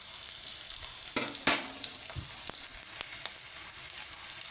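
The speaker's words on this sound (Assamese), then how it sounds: "এতিয়া মই ইয়াতে কাটি থোৱা বিলাহীকেইডোখৰ দি লওঁ।" Cut tomato pieces dropped into hot oil in a pan, a steady soft sizzle with a few sharp crackles and spatters early on, no voice over it.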